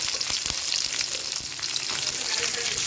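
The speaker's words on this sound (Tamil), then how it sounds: "கட் பண்ணி வச்சுருக்க வெங்காயமும் சேர்த்திக்கலாம்" Chopped onions fry in hot oil with curry leaves and dried red chillies, a dense continuous sizzle with scattered pops and spatula scrapes, close by, with no talking.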